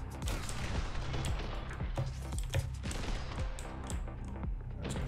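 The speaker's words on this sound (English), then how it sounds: "I'm just gonna shoot this guy real quick." Rapid gunfire in the action shooter The Hong Kong Massacre comes as a relentless stream of sharp, close shots, closely spaced and overlapping, loud and unbroken throughout with no talking.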